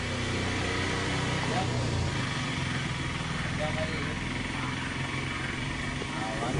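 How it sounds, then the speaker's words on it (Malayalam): A vehicle engine drones steadily nearby with a low hum, under scattered voices and background chatter, staying fairly constant without a clear rise. "വണ്ടി വരും ഇപ്പൊ, വണ്ടി വരാണ്ട് കേട്ടോ"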